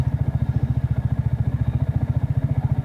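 Triumph Spitfire motorcycle engine running at a steady idle, a close, loud, even pulsing thump repeating rapidly throughout with no voices.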